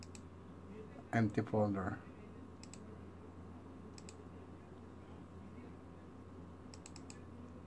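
Computer mouse clicking while navigating folders, several faint paired clicks spread across the span, with someone briefly speaking early on.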